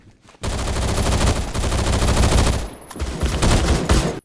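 Sustained automatic gunfire in Phantom Forces, a rifle loaded with 223 rounds firing loud rapid bursts after a short quiet start, with a brief dip between two long strings of shots.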